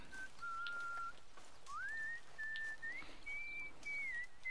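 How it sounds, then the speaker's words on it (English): Red Dead Redemption 2 character Pearson whistles a wandering, sliding tune of several sustained notes over a steady hiss of camp ambience, clear and moderately near with no talk. "So you got Pearson whistling"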